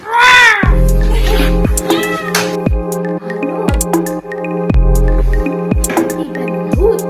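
A child in a school classroom imitates a cat, giving a string of loud, close, drawn-out meows, around eight in a row, each ending in a sharp drop.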